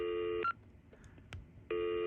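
A Panasonic KX-TCM422 cordless phone handset sounds two steady electronic dialing tones, each about half a second long, clear and close, separated by a quiet gap with faint clicks.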